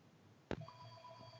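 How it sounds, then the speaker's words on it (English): A mobile phone rings indoors, starting with a sharp burst and then settling into a steady electronic ringtone of sustained tones with a second pulse about 0.7 seconds later, fairly quiet and alone without talk. "sorry, my phone's ringing."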